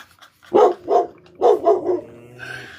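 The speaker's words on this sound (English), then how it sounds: "While Johnny is tending to his dog," A dog barks several times in quick succession, loud and close, each bark with a sharp onset and a short tail. A faint whine-like tone follows at the end.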